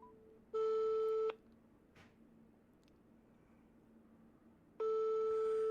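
Phone tones sound while a call is placed back to someone, two steady electronic beeps about a second long separated by a long quiet gap, clear and alone.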